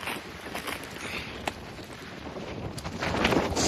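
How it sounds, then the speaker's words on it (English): Gusty wind buffets the microphone outdoors, a continuous rough rumble with occasional thumps, growing stronger toward the end, during roof shingle repair. "it's pretty windy out here"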